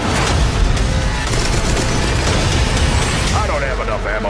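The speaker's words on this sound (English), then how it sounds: "Gunfight!" Dense burst of gunfire and booming explosions from the Transformers: The Last Knight movie trailer, loud and continuous throughout, with a voice speaking near the end over the barrage.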